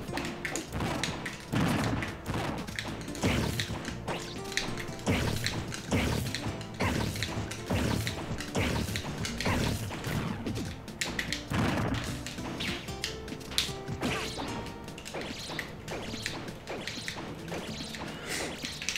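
Constant rapid clicking and clattering of plastic buttons being mashed, dense and busy throughout over a steady mechanical background.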